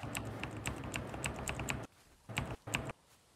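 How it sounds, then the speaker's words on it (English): Loud computer keyboard key presses in a rapid, steady typing burst, then a pause and two short clusters of clicks, close and clear with no talking. "your keyboard presses are really, really loud now"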